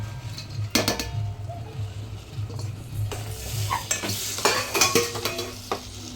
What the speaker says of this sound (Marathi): ते व्यवस्थित मिक्स करून घेऊया. मसाले व्यवस्थित भाजल्यावर त्यात आपण मटकी टाकून देऊ.